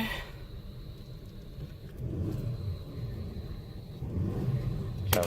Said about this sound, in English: Okay, I'm gonna be parking the car now